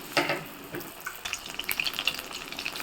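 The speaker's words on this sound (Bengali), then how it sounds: "এক এক করে সবগুলো বড়া আমি একবারে ভেজে নেব" Taro fritters sizzle in hot oil in a large wok, a soft, uneven crackle with scattered pops and a light bubbling texture, moderately close and fairly quiet.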